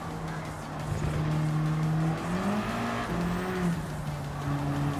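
Gran Turismo 7 racing car engine droning steadily up close, its pitch climbing and dropping through gear changes over about five seconds, with faint tire noise and no talking.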